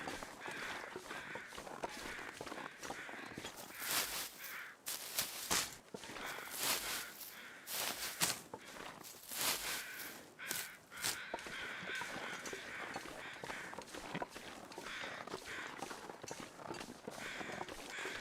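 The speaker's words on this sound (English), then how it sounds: "What are you guys crowing about?" Crows cawing in the survival video game The Long Dark, repeated harsh caws at a distance mixed with crunching footsteps walking steadily through snow.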